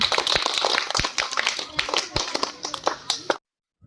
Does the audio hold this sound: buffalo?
no